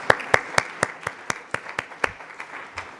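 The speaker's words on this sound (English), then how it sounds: "I think we should give them a big round of applause." An audience at the Canada-US Law Institute annual conference claps in a sparse, steady rhythm, with distinct individual hand claps spaced evenly and fairly close for about three seconds.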